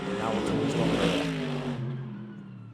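A Mercedes GT3 race car at the Macau Grand Prix downshifts close by, its engine blipping through the gears with loud rasping revs that fade as the car moves away.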